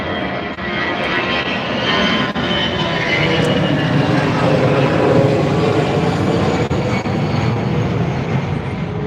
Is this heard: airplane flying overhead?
yes